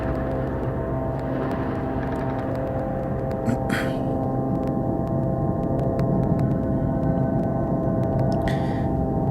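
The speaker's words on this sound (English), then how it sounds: "Relax, it's the sound of an airplane." An airplane passes overhead as a steady, low engine drone with a broad rumble that holds for the whole stretch, with faint clicks scattered through it.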